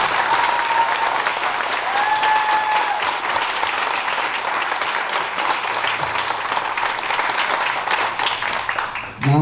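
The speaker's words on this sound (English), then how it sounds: "I want to give all of these tremendous students one more big round of applause." A large audience at a high school honor graduation night gives the graduating students a sustained round of applause, dense and steady clapping that fills the hall for several seconds before tapering off at the end.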